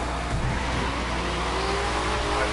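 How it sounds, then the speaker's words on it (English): In The Crew racing video game, a car's engine roars continuously and loudly while its tires squeal and skid. "Got some sounds coming off your tires."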